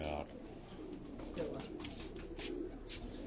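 Rooftop pigeons keep up a low, continuous cooing close by, soft rolling calls layered over faint background noise, with a voice briefly present near the start.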